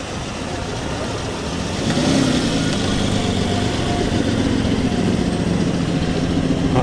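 A 1965 right-hand-drive Ferrari arrives at an outdoor classic car show, its engine revving loudly and close by, then holding a sustained rising roar with steady mechanical rumble.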